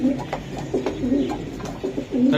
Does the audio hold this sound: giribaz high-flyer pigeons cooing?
yes